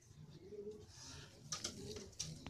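Racing homer pigeons coo softly at a Kolkata loft, low murmuring calls repeating over a faint steady background with a few light clicks and rustles.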